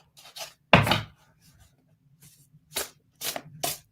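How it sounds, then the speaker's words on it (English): A tarot deck is shuffled by hand in short, crisp riffling bursts separated by quiet gaps, close and fairly loud, with one stronger flurry early on. "Give it a nice shuffle."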